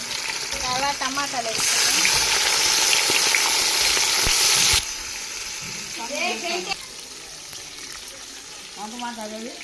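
Onions dropped into well-heated oil burst into a loud sizzle that holds for a few seconds, then settles into a softer frying crackle while someone talks over it.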